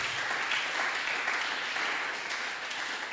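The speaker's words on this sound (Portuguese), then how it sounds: "Aplaudimos ao Senhor." A congregation at a Portuguese-language church service applauds, a steady, dense wash of clapping from a crowd that continues evenly throughout.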